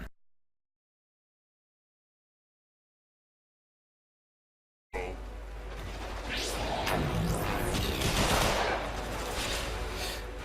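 Gunfire in the video game Warframe during a PS4 boss fight against Tyl Regor, starting after about five seconds of silence, then a dense, loud stretch of rapid shots and impacts over a low rumble.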